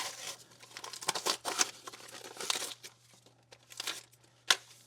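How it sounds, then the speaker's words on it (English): Glued plastic and cardboard packaging being peeled off a Star Wars Episode 1 Battle Droid action figure, close crinkling and tearing in irregular bursts with brief pauses and one sharp rip near the end. "Oh, man, this one you have to peel off everything."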